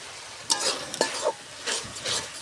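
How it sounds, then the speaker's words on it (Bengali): Spices (chili powder, turmeric, salt and a little garam masala) are stirred and fried in a pan for a pangas fish bhuna with onion, giving a few short scraping stirs over a soft sizzle. "মশলাটা সুন্দর কষাবো।"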